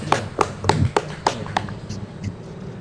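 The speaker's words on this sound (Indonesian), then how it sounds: "Kita kasih aplaus untuk kelompok" A small classroom group claps for a student team, about eight distinct, evenly spaced handclaps close by, tapering off at the end.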